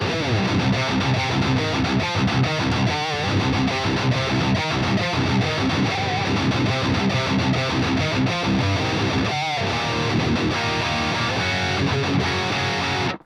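A heavily distorted electric guitar plays a metal riff through the Bogren Digital Trivium Ampknob amp plugin, loud and dense with tight chugging rhythms, alone without talk.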